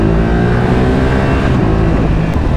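A motorcycle ridden in winter, its engine a loud steady drone with rising and falling pitch up close, blended with wind rush and no speech.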